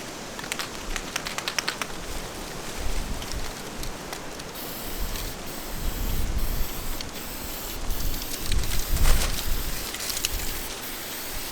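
Spray paint is applied to an old car, producing a continuous hissing spray that rises and falls in bursts over several seconds, fairly close, with small clicks and handling noises between passes and no talk.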